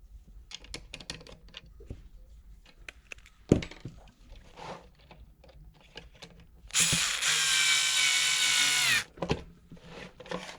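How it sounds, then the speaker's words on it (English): A power screwdriver whirs steadily for about two seconds, driving screws back into a Dyson V8–V15 cordless vacuum's direct drive connector joint, with light clicks and handling noises before and after. "now we're putting these two screws back in."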